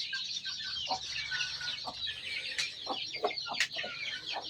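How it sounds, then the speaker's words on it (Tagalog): Chickens in small backyard coops cluck in short scattered bursts at moderate distance, over a dense layer of high chirping, with no talking. "Mga manukan ko."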